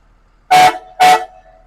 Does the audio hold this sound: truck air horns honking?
yes